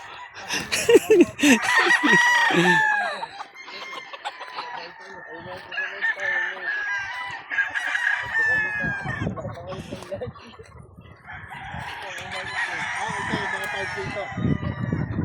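Gamefowl roosters crow on a farm, several loud close crows overlapping and following one another across the stretch, with clucking around them and someone talking throughout.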